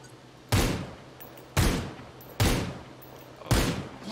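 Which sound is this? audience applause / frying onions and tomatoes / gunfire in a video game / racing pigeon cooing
gunfire in a video game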